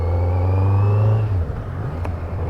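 Kawasaki Z900 motorcycle being ridden during break-in, its engine a loud, close, steady drone that drops in pitch partway through as the throttle eases.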